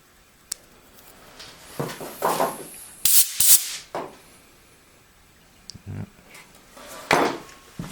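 Brake cleaner sprayed onto a restored Woods Powr vacuum suction cup in a workshop, short hissing aerosol bursts mixed with clattering handling knocks and taps, close and without speech.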